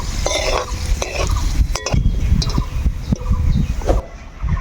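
Cashews fry in a little white oil in a pan, a soft crackle running beneath repeated scrapes and metallic clinks of a spatula stirring close by.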